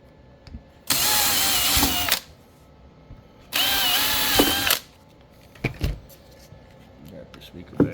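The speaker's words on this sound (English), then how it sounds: "then you're gonna go ahead and drill all the way through." A power drill bores through a Nagy 10-inch Harley speaker adapter ring in two loud, whining bursts of about a second each, separated by a short pause. Small clicks and handling noises follow.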